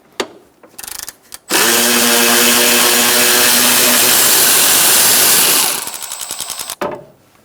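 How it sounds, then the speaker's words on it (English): Ratchet with a 10mm socket backing a nut off a stud on a 2004-2009 Mazda 3 engine bay, a brief clicking start, then a loud sustained mechanical whir for several seconds, ending in a rapid ratchet clatter, close up. "Using a 10mm socket, we're going to get this nut"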